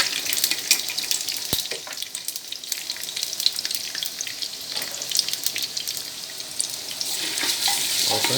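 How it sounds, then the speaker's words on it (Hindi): Two large onions fry in hot desi ghee at the start of a mutton kunna, giving a steady close sizzle with watery crackle that swells slightly toward the end, no voices. "घी गर्म हो गया है और अब हम इसमें 2 बड़े साइज के प्याज डाल रहे हैं।"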